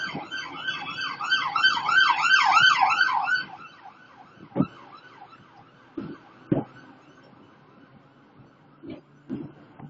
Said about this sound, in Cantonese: 消防車。